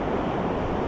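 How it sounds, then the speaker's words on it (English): Wind blows hard across a chilly, nearly empty beach, making a steady, close broadband roar that may carry surf beneath it, with no voices. "it's very windy and it's not very warm"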